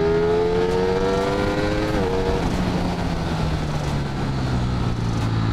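A Ducati Streetfighter V4 hypernaked motorcycle engine howls loudly and steadily, its pitch rising, then dropping as gears shift, under heavy wind rush; continuous with no talking.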